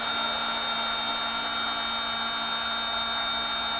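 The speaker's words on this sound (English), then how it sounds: "Where's my drill?" A handheld electric drill runs continuously at a steady high whine, close and loud throughout with no pauses.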